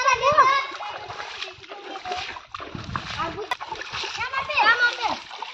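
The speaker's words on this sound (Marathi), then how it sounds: "भाऊ त्या मातीवर उडव तिकडे पाणी" Water splashing and sloshing onto soil near a waterfall, in short irregular bursts, close by under frequent children's and adults' voices.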